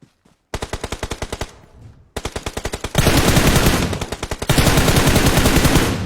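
Rapid bursts of automatic gunfire in a video game firefight, loud and close, starting in short volleys then building into sustained, dense fire with brief gaps.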